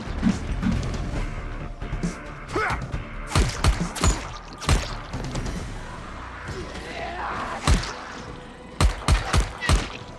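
Gunfire rings out in Dying Light The Beast, a run of sharp, loud shots in irregular clusters and quick bursts, with mechanical clatter between them and no talking.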